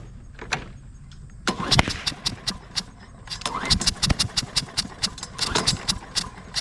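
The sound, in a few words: John Deere Briggs & Stratton engine starting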